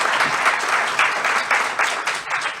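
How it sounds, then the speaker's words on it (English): Audience applause after a civics and education panel discussion, steady dense clapping from a crowd that holds through the whole stretch without voices. "I think Keith deserves a round of applause."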